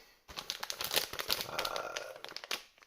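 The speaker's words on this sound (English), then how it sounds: "So I'm going to need a pair of scissors to take everything out of the bags." Plastic bags crinkle and rustle up close in quick, dense bursts while RC car parts for a 1/16 scale Rastar Ferrari SF 1000 are unpacked, with no talking.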